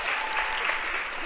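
An audience at a podcast panel claps in a brief, even burst of applause, moderately quiet and sustained with no spoken words over it.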